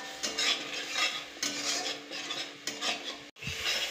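A spatula stirs fried onion and spices in an oily pan for an egg curry, steady scraping strokes over a soft sizzle, close and continuous with a brief pause near the end.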